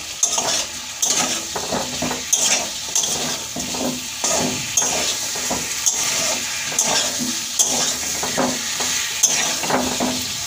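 Curry frying and being stirred in a pan at home, with steady sizzling and repeated scraping and clinking of a spoon against the pan throughout, close and continuous.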